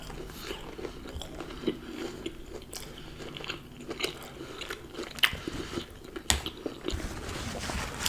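Crunchy Korean corn dogs being eaten, with close, quiet bites and steady chewing crunches repeating irregularly, a few sharper crackles standing out.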